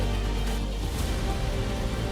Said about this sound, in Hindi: बारिश के साथ गिरे ओले।